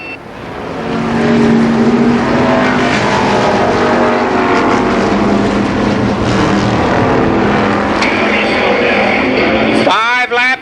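Race cars circling Columbus Motor Speedway in 1991, a loud continuous roar of engines that swells in after a quiet start and holds steady, with a brief sharp whine near the end.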